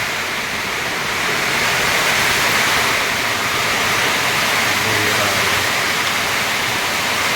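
Heavy rain pours down steadily, a dense, loud hiss that fills the space without letting up.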